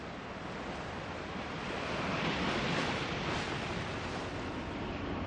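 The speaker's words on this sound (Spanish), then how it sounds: "Observa el viento que arrecia y el mar que se encrespa" Rough Pacific sea surf churns under a strengthening wind, a dense continuous roar of waves and gusting air that swells slightly louder midway, with no voices.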